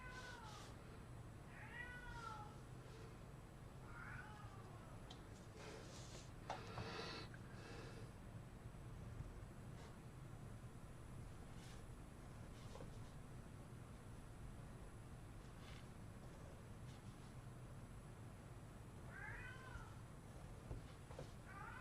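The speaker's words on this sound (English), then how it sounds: "If you hear a cat screaming, that's my cat Woody" A pet cat named Woody meows repeatedly in several drawn-out cries, with louder calls near the start and again at the end, over a steady low room hum.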